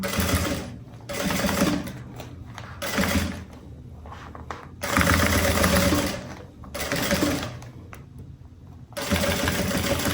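A sewing machine stitches synthetic fabric with a plastic backing while a zippered pencil case with a strap is being sewn. It whirs close up in repeated bursts of a second or two, with short pauses between runs.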